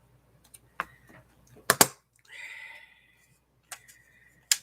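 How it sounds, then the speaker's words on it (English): Scissors snipping circles out of craft scrap material, a few sharp close clicks and short cutting strokes, separated by pauses, quiet room and no talk. "Let's cut some circly things."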